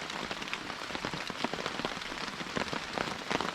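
Steady rain patters on surfaces at an island campsite during a solo canoe trip, a dense, soft, even drumming with scattered louder drops and no voices.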